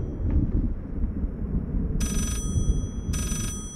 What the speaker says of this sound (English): Is that another phone?